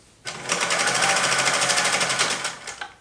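A freshly oiled vintage Singer 201 sewing machine runs close and loud in a fast, even rattling stitch for about two and a half seconds, then slows and stops.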